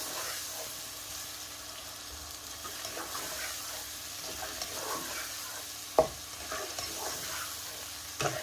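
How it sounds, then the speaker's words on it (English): Tomatoes being stirred into kofta meatball curry in a frying pan, with a soft continuous sizzle, scraping spoon strokes and one sharp knock. "So we're also going to add the tomatoes in. And then just continue to stir this."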